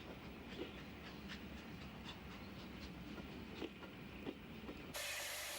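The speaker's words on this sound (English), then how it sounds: "the sight and sound of a steam train over this spectacular line will hopefully be with us for many years to come" Steam train running on the Settle and Carlisle line, with a faint, distant rhythmic clickety-clack of wheels under a steady hiss, ending in a sudden louder rush of noise.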